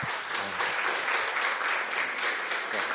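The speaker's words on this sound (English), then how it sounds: "Applause." Audience applause closing a habilitation talk on precise magnetic sensors, a steady wash of many hands clapping indoors for three seconds, fairly loud and continuous with no talk over it.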